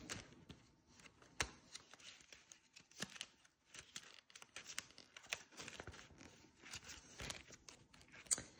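A small card being handled, with quiet, close rustles, scrapes and clicks of paper and plastic coming in irregular bursts, alone with no talk.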